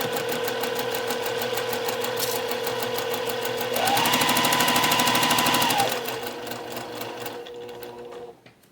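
A domestic sewing machine stitching around the edge of a cross stitch pillow, with a rapid steady mechanical chatter that speeds up briefly in the middle, then slows and stops.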